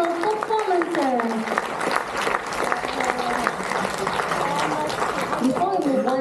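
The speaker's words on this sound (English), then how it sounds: "let us together give a big round of applause to all the children for their effort in giving tremendous and memorable performances" Audience applause at a children's graduation day performance, a steady wash of clapping throughout with voices and cheers mixed in.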